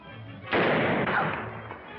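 A single heavy gunshot boom from an old black-and-white film, muffled and lo-fi, rising sharply and fading over about a second.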